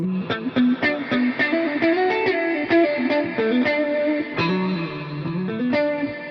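Electric guitar played through an HX Stomp with chorus and vibrato, on an AC30/AC15-style amp tone with big reverb: a steady run of picked single notes and chords, shimmering and washed out, with no voices.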